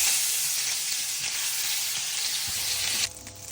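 Green chilies sizzle in a frying pan of hot oil with cumin, garlic, onion and tomato for chicken changezi, giving a loud, steady crackling hiss that drops off sharply near the end.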